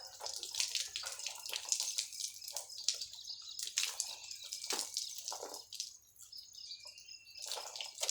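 Water poured over the body during a wash, coming in irregular splashing bursts with drips between them, close and moderately loud, with no talk.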